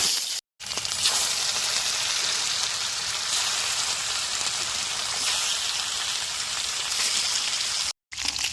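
Pieces of rohu fish fry in hot oil in a wok, village-style, giving a loud, continuous crackling sizzle that holds steady throughout, broken only by two very short silent gaps.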